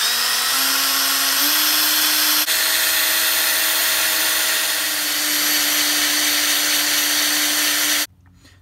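A power drill bores through a broken hardened steel bolt with a loud, steady high-pitched whine that rises slightly in pitch, continuing for about eight seconds before cutting off abruptly.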